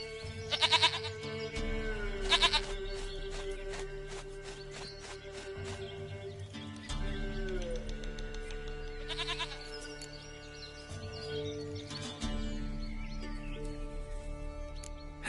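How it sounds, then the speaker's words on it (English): A goat in The Witcher 3 bleats repeatedly in clear, loud calls over a steady game ambience, with several distinct bleats spaced across the stretch and no speech. "Goat of mine, dearest, sweetest goat."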